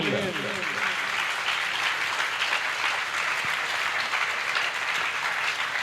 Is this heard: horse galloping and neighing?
no